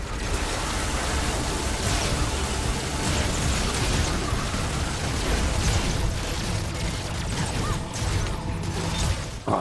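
Dense, continuous rumbling bursts of enemies exploding in ReCore, loud and layered with crackling debris, sustained without a break.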